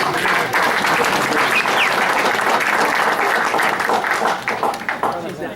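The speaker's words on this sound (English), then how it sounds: "Big round of applause for them." A community meeting audience gives a big round of applause for local minigrant recipients, dense steady clapping that fills the room for about five seconds before thinning out at the end.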